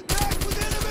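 A sniper rifle in a multiplayer shooter game on the Crash map fires a fast, loud string of sharp cracks in a steady rhythm, close and dominant, filling the whole moment.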